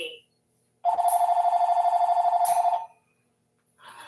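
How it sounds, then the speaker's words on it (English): A telephone rings indoors in a single burst of about two seconds with a rapid warbling pulse, loud and clear, with a person's voice briefly before and after. "Excuse the phone in the background."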